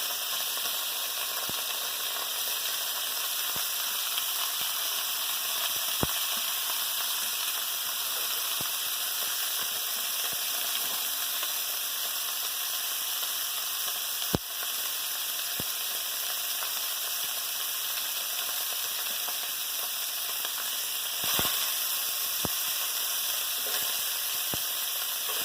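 Beef pieces browning in hot oil in a pan, a steady loud sizzle and crackle that runs continuously with occasional sharp pops.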